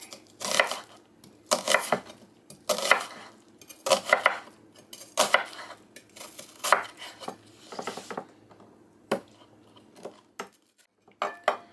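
Knife chopping onions on a cutting board for caramelized onions, a run of crisp, close blade strikes in short uneven bursts separated by brief pauses, with no talking.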